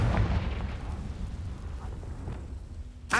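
A Confringo blasting spell goes off in the Hogwarts Legacy video game, with a rumbling, artillery-like boom at the start that slowly fades, followed by a sharp burst right at the end.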